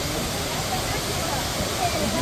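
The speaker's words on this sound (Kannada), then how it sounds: "ನೋಡಿ ಅಬ್ಬಿ ಫಾಲ್ಸ್ ಬಂತು. ಅಬ್ಬಿ ಫಾಲ್ಸ್ ಹೇಗಿದೆ ಅಂತ ನೋಡಿ." Abbi Falls near Madikeri, swollen after heavy rain, gives a constant, dense roaring rush of falling water that fills the whole scene without pause.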